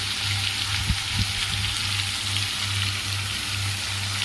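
Potatoes seasoned with salt and turmeric fry in hot oil in a pan, a steady close sizzle with a few soft stirring knocks near the start, no voices.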